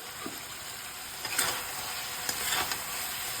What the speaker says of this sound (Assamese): এইফালে গাইজ চব্জি ভজা হৈ গ'ল